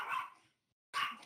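Dog barking in the video game Goose Goose Duck, two short sharp barks separated by a brief silence, moderately loud and close.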